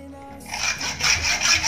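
The old rubber seal of a Yamaha Vixion monoshock is cut with a blade, a rasping scrape that starts suddenly and comes in rough repeated strokes, close and fairly loud.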